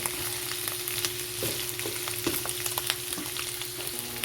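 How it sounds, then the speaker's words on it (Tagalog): Chicken and mushrooms stir-fry in a pan, with a steady close sizzle broken by scattered scraping clicks of a spatula stirring. "haluin lang natin at hanggang sa maluto"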